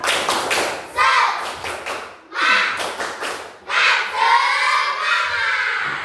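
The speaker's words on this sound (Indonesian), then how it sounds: "Sebelum kalian pulang, boleh tepuk semangat dulu. Tepuk semangat." Children in a classroom clap out a rhythmic spirit clap in short, loud bursts with brief pauses between them, and their voices chant and shout along with the beats.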